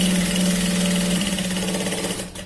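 Electric sewing machine stitching the shoulder seam of a shirt: a steady, close, continuous motor whir with a fast mechanical needle rhythm, running alone without talk and tapering near the end.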